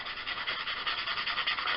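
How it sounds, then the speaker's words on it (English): Steady, close rasping of sandpaper rubbed back and forth over a surface in quick, even strokes, with no voices. "I am going to lightly start sanding"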